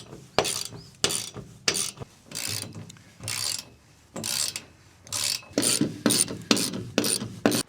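Ratchet wrench tightening dome head nuts onto bolts on a stainless cockpit enclosure, a series of close, loud clicking strokes in irregular bursts.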